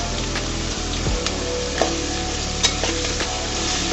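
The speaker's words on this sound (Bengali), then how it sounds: "সুন্দর করে নেড়ে চেড়ে মশলার সাথে মিশিয়ে দিব।" Drumstick stems are stirred into fried spice paste in a pan, with steady sizzling and scraping of the spoon, plus a few louder clinks against the pan and no talking.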